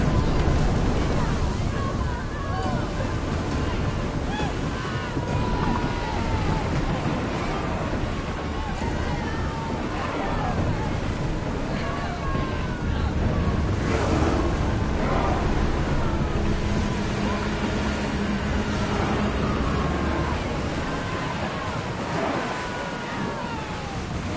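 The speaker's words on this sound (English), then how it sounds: "Feel that wind!" Strong wind rushes over the open sea in the game Assassin's Creed Odyssey as a dense, continuous roar mixed with the wash of water, with faint voices and calls underneath throughout.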